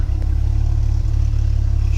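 First-generation Dodge Viper engine accelerating, a loud close low-pitched throbbing drone with a steady pulsing rhythm over a brief stretch.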